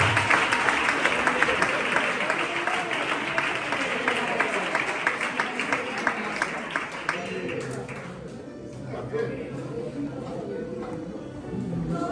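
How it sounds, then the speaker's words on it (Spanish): A congregation at a Filadelfia church service in Ferrol applauds the Lord with loud, sustained clapping and crowd noise for about eight seconds before it fades out, while a voice talks over it and carries on afterward. "Dale un aplauso al Señor"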